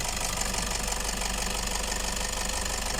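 A Toyota Grandia GL engine idles steadily after alternator repair with a low, continuous rumble and faint rhythmic knocking, close by and unchanging throughout.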